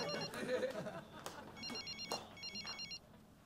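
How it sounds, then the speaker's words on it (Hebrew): A telephone rings in bursts of trilling electronic bell tones, repeating several times indoors while people talk and move nearby. "תענה, כולה טלפון."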